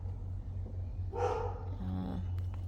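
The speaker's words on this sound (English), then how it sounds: "Sorry about the dog in the background." A dog barks a couple of times in a backyard garden, moderately distant and fairly faint over a low steady hum, with a short whimpering tail after the barks.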